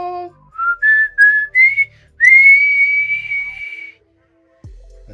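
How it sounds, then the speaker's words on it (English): A single person whistles a short tune alone, a run of quick rising notes followed by one long sustained high note, clear and close, ending with a brief low thump. "that was obviously a better whistle this time around"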